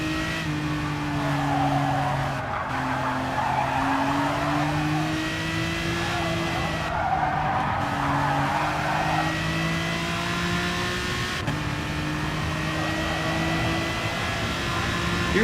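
An Aston Martin DBR9 race car in Gran Turismo Sport working through S-curves, its engine note rising and falling steadily as throttle is eased and reapplied, with tire noise and brief shift breaks, loud and continuous.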